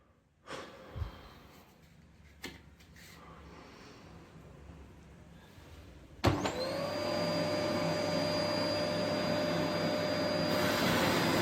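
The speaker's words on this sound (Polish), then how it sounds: "Odkurzacz jest dobrym sposobem." After a few soft knocks in a quiet room, a vacuum cleaner switches on partway through. It holds a loud, steady whirring whine nearby until the end.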